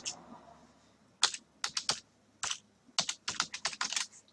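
Keys tapped on a computer keyboard while typing a new folder name, a close run of crisp clicks in short uneven bursts with brief pauses, quiet hum underneath.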